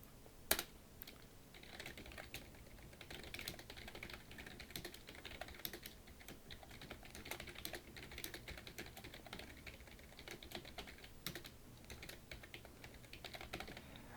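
Computer keyboard typing while working in PowerPoint, including Shift+Enter presses: steady, close clicking keystrokes run throughout at a moderate, even pace, with no talking.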